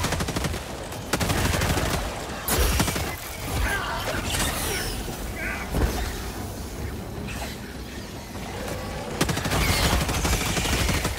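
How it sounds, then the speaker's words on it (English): An energy weapon fires laser bullets in a video game, letting off loud, dense bursts of rapid shots with mechanical clanks and crashing impacts in short sequences, separated by brief gaps. "So it's just laser bullets."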